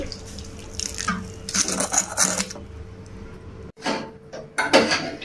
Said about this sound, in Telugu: చింతపండును ఇలా వేడి నీళ్లు పోసుకొని నానబెట్టుకోవాలి